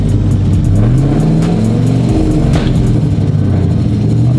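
Sequential burnout truck engine revving loudly and continuously up close, the pitch rising and falling in waves as gas is applied, with a steady heavy rumble throughout.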